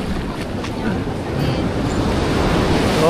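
Strong ocean waves surge at night off Isla Malaya in Dingalan, Aurora, a continuous broadband roar of surf mixed with wind buffeting the microphone, swelling slightly louder toward the end.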